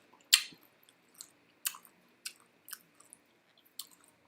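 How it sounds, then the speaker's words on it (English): Someone chews food close by in a home kitchen during baking, with several distinct wet, crunchy bites spaced irregularly against quiet surroundings. "Got you chewing like that."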